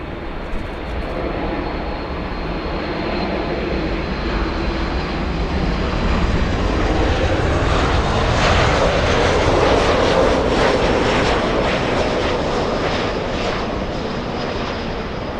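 Asiana Airbus A380 taxiing at LAX, a constant broad roar of jet engines heard from a distance, swelling slightly midway, with no talk.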